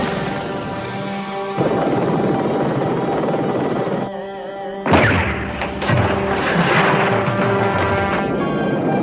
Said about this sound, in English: Bring down that chopper!